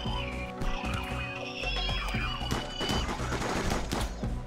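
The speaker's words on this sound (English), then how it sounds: "Okay, keep shooting." Gunfire in the video game Rimworld, with rapid overlapping bursts and single shots crackling in a busy, continuous volley, mixed with other battle sounds and game effects, and no talk.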